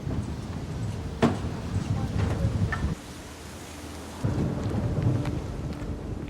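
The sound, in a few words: thunderstorm approaching a quiet village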